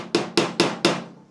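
A hammer strikes four times in quick, even succession while car bodywork is being fitted. Each blow is a sharp, close knock with a short ringing decay, and the last one fades out alone.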